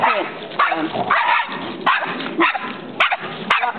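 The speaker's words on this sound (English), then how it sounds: "Rocco loves to bark, just like Lucy likes to bark" Several dogs bark repeatedly in short, sharp bursts, close by, with some yips mixed in.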